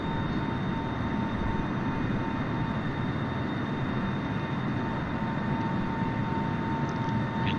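Steady, loud broadband engine roar of a Boeing 747 climbing after takeoff in Flight Simulator, a continuous jet drone with faint steady tones and no talk.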